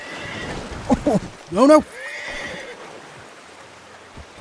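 A horse in Red Dead Redemption 2 lets out a sharp, loud whinny after a fall, with two short grunts just before, over light hoof and ambient noise, while someone speaks briefly.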